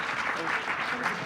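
Festival audience applauds after a panel session at Jaipur, a brief wash of dense clapping at moderate distance.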